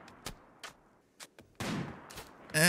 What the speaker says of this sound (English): Gunshot to torso.